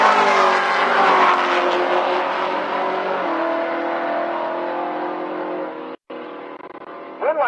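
Drag race cars, one a Camaro, launching down the strip at Rocky Mountain Race Week finals; loud engine roar that slowly recedes as the cars pull away, cut briefly near the end.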